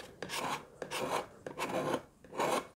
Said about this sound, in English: quick going over with a card scraper